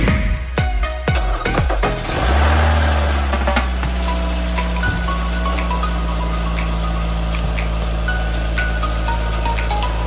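A car engine cranked with a Tacklife T8 jump starter, a brief burst of clicks and cranking that catches and settles into a steady, close idle hum lasting to the end.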